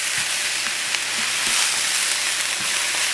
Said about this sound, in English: You're just really trying to like get all the moisture out of it and fry it up